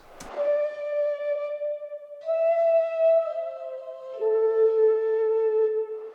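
A breathy Jubel Flute sample loop from Kontakt playing a slow, sustained melody of three long held notes, clear and close, with no other sounds.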